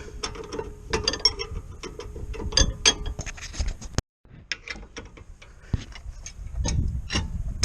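Close, loud ratchet clicking as brake caliper bolts are tightened on a 2014–2024 Nissan Murano rear brake, fast bursts of clicks with brief pauses, a short silent gap midway and a few clanks.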